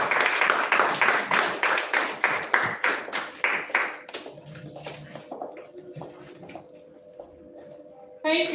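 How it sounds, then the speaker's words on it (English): Audience applause at a blockchain and web3 meet-up in Nigeria, a rhythmic wave of clapping close by that tapers off after about four seconds into quieter scattered claps and room noise, with a brief burst at the end. "A big round of applause once again for Mr. Ubo Magasi."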